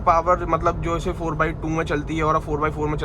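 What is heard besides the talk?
No everyday noises stand out.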